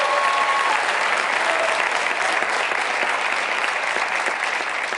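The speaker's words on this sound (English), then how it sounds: "All those people clapping up there" Sustained applause from a large audience at a democracy summit in Copenhagen, dense and steady throughout at an even, loud level with no gaps.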